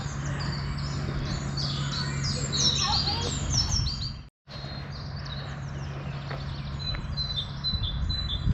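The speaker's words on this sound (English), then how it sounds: "Lots of birds singing." Several birds singing and chirping in quick repeated phrases over a low steady hum, with a brief drop-out midway.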